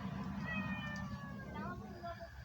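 A house cat meows in a few drawn-out, wavering calls at moderate distance under a low background hum, with no one speaking over it.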